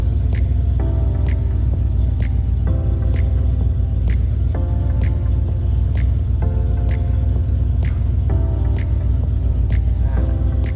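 A van engine idles after a transmission repair, a loud steady low rumble throughout with faint recurring ticks and chirps on top, and no speech.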